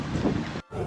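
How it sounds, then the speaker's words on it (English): Gusty wind buffets the microphone in an outdoor car park at a koi show at a garden centre, a loud, steady rumbling roar that briefly cuts out near the end before returning. "a bit windy on the car park"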